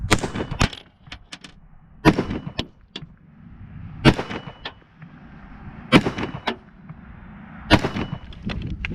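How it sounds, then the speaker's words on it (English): Five rifle rounds fired slowly, one at a time, at a target on an outdoor range: sharp loud cracks about every two seconds, each trailing into a brief echo over low background rumble. "I'm gonna shoot, let's say 5 rounds"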